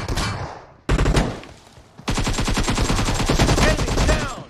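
Rapid bursts of automatic gunfire in the PUBG Mobile video game during a warehouse squad fight, loud and dense, starting with a short burst, then a pause, then sustained rattling fire to the end.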